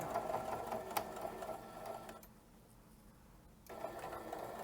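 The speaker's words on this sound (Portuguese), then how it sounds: "Vou chegar a minha costura até bem aqui na bordinha" Domestic sewing machine stitching a seam to the very edge of fabric, a steady close whirring run that stops for about a second and a half before starting again.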